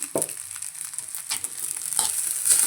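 Street-style egg fried rice frying in a little oil, a bright, constant sizzle close up, with scraping stirs and spatula taps against the pan coming in bursts.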